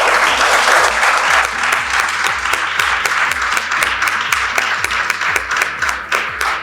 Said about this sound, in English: I would like us to please give our parents a round of applause